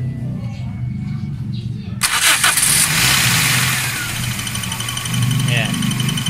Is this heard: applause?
no